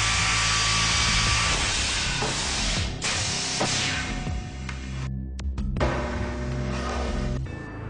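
A Gannomat Elite dowel inserting machine working a wooden panel, with a steady loud mechanical whir and hiss throughout, broken by several sharp pneumatic bursts and clunks partway through.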